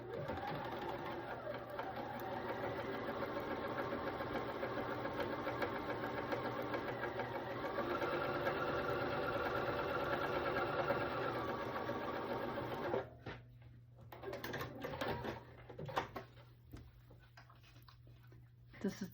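A sewing machine runs steadily as it stitches a quarter-inch seam on a snowman quilt block panel, with a continuous close whirring hum that stops abruptly, followed by quieter handling sounds and someone speaking.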